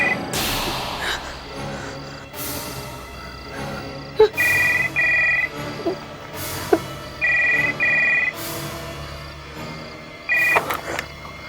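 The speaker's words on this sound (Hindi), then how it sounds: "इस फोन की घंटी बजी तो मैंने फोन उठा लिया।" A telephone bell rings in repeated short electronic bursts, roughly two per cycle with gaps between, loud and close, over a dramatic musical background.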